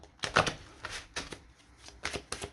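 Oracle cards are shuffled by hand in a reading, several quick papery riffles and slaps in uneven bursts, close and fairly crisp.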